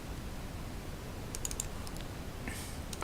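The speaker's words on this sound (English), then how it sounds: "click insert on my keyboard" A few quick, light key taps on a computer keyboard, one being the Insert key, clicking faintly over a steady background hiss with no talking.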